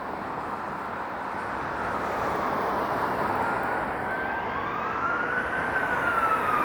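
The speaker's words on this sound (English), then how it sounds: "I hear more sirens off in the distance." Distant emergency sirens wail steadily over a constant wash of night-time city traffic noise in Toronto, a rising and falling tone drifting in from far off.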